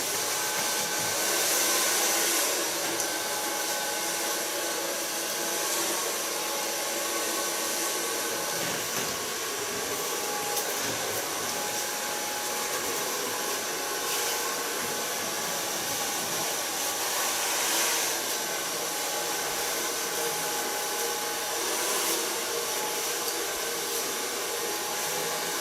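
A hair dryer blows steadily on freshly cut and coloured purple hair with light ends, a continuous close whooshing hiss that holds level throughout with no talking.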